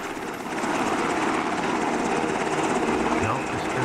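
A helicopter comes in to land in the video game Arma II, its rotor and engine roar loud, dense and continuous throughout, with people talking over it.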